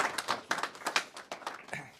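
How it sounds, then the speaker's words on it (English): A sparse round of clapping for the governor at an elementary school event, heard as distinct, irregular claps from a smallish group, fairly faint and fading in and out. "So a round of applause for the governor."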